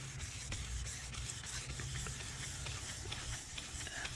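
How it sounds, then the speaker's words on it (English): Steady, continuous rasping of sandpaper worked back and forth by hand over a wooden interior trim piece from a Jaguar MKII, with faint repeated scratchy strokes and no talking. "probably this sanding is rather boring, so let me continue the sanding"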